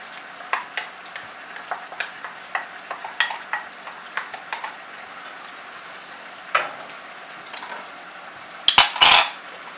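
Celery, garlic, onion and carrot cook in a pan on gentle heat while a utensil scrapes and taps against the pan in scattered clinks, ending in a few louder knocks over a soft background sizzle.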